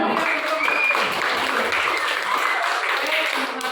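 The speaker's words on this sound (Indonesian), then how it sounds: "Nah, kita beri tepuk tangan dulu." Students in a school classroom clap together in a short, dense burst of applause, fairly close and even, with faint voices mixed in.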